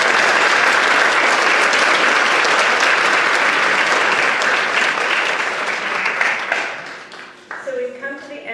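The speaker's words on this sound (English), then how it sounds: "So let's give them a round of applause." A round of applause at a school district board meeting, loud and steady for about seven seconds before fading out as a speaker begins talking.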